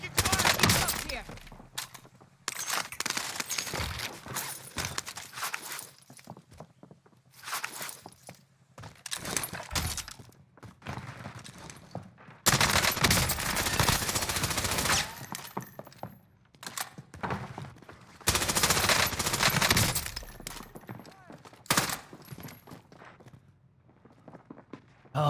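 Bursts of gunfire in the video game Warzone, rapid volleys and fusillades starting and stopping over about 25 seconds, mixed with footsteps and jangling game sounds, fairly loud in places with quieter gaps between.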